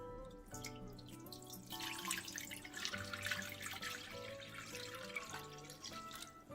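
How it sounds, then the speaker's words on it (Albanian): Water runs and splashes into a deep bowl while preparing a homemade fruit yogurt dessert, a steady pouring rush lasting the whole stretch, close and fairly quiet, with no voices. "në një enë pak më të thellë shtojmë 1 litër ujë"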